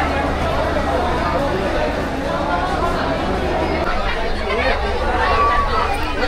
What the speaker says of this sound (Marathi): गर्दी बघा।